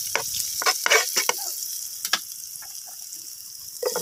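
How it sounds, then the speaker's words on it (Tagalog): Garlic sautés in a pan for a banana heart dish, a soft high sizzle broken by several sharp, close scraping stirs at irregular intervals. "Gisa na tayo ng bawang."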